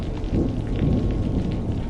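Steady rain with low rumbling thunder in a horror story setting, a dense continuous wash of downpour and deep rolls that stay fairly loud throughout, with no voices.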